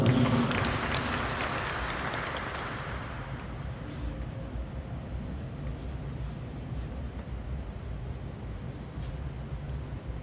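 Audience clapping at a Catholic parish youth celebration, a broad wash of applause that is loudest at the start and then tapers into a steady, softer patter that lasts through to the end.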